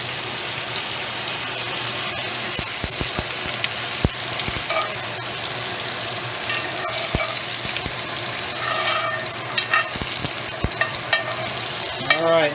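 Fat for a 196-day-old tomahawk cowboy steak melting in a hot pan, giving a steady close sizzle and spitting crackle with scattered sharp pops throughout, no voices.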